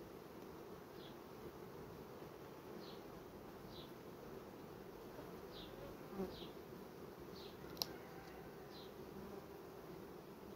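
Steady low insect buzzing, a dense continuous hum of many bees, with faint brief clicks and one sharp tick partway through.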